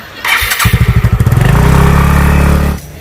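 Motorcycle engine starting up close by, with quick sputtering pulses that settle into a loud steady idle before cutting off.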